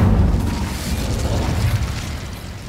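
A loud, rushing fiery whoosh from the Incendio fire spell in the video game Hogwarts Legacy, a sustained burst with a deep rumbling roar that slowly tails off, with no talk.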